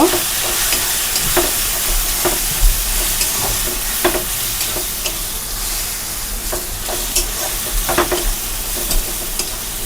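Ground black pepper and cumin powder are stirred in a hot sizzling pan, with repeated scraping strokes of the spoon over a steady loud fry and no voices.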